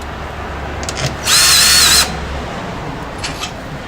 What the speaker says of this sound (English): I'm putting all the bolts on, I'm not even tightening it up, and then we'll just slowly bring it up to the, I'll back off the clutch on the drill